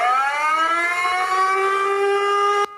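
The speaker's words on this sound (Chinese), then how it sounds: "警报声响起，警方来到村落，要求居民立刻离开河川区和警戒范围" Civil defense siren sounding an evacuation warning for a landslide dam lake, a loud sustained wailing tone holding steady for nearly three seconds before cutting off abruptly.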